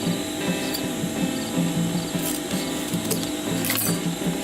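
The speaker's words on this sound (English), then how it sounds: "We are going to sew a cross shape, box shape on top here to hold it in place" A sewing machine stitches a box shape onto webbing for a rollup pouch, giving a steady, fast mechanical chatter of needle strokes that runs throughout at close range.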